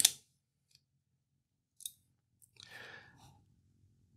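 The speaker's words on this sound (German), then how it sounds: "Schere" The scissors on a Swiss pocket knife snip and click, giving a few crisp, brief metallic clicks with quiet pauses between them and a faint rustle near the end.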